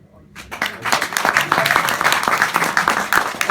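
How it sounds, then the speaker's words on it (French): A comedy show audience breaks into applause that starts abruptly and continues as a lively, irregular patter of many hands clapping close by, with some voices and laughter underneath. "là je vois que vous applaudissez"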